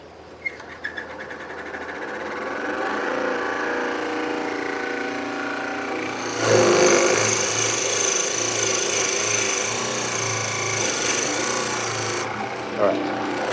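A dull Forstner bit boring into hawthorn wood gives a steady, grinding rasp that runs without a break, swelling louder near the middle and easing off toward the end.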